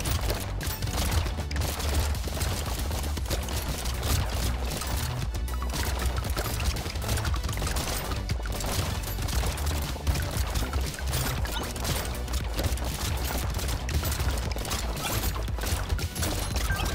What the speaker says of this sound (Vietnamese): Nên cho cái khẩu súng rồng thì nó sẽ bắn đạn nhanh hơn.